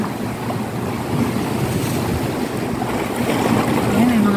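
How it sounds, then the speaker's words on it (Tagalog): A boat draws closer across the sea off a beach at Infanta, Quezon, its low motor drone steady beneath wind buffeting the microphone and surf washing in, with faint voices in the background. "Ayan, ang bangka."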